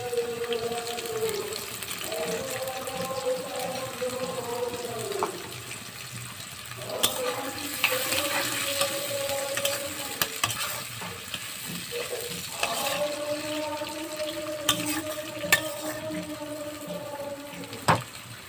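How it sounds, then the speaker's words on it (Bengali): Onion and garlic frying in hot oil for a taro stolon curry, a steady moderate sizzle with occasional stirring scrapes and clinks of a utensil against the pan, continuing throughout with brief louder crackles. "লতির জন্য পেঁয়াজটা একটু হাফ ভাজা দিয়ে দিয়েছি।"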